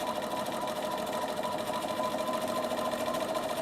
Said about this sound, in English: you've got your thread saver on and you're just going to straight stitch